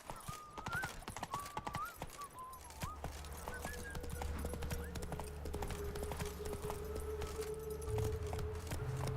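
Horse hooves clip-clop in Witcher 3 Wild Hunt, a brisk rhythmic patter of hoofbeats that settles into a steadier gallop under background game music and ambience.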